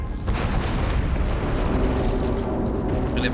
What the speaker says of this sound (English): And it blows up, and the huge tower that overlooks even the, like, observation deck that I was on falls over.